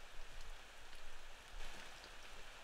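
Rain patters steadily and softly in the Ao Oni game, a dense even hiss of drops with no voices over it.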